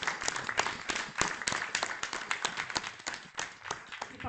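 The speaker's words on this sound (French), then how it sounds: "Je vous demande de l'applaudir." An audience at a choir association's general assembly applauds its president. The clapping is moderately faint and uneven, with individual sharp claps standing out from a thinner, scattered applause.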